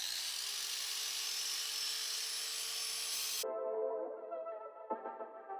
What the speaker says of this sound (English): So angle grinder it is.